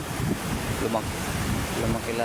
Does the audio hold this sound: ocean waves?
yes